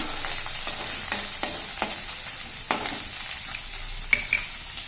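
Onions browned in a pan sizzle steadily after a spoon of ginger garlic paste goes in, while a spoon scrapes and stirs in several sharp taps and strokes close by, with no talk.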